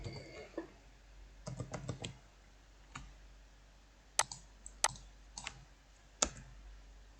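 Someone types a password on a computer keyboard: scattered sharp key clicks, some in quick clusters and others spaced apart, close and crisp against a quiet room hum.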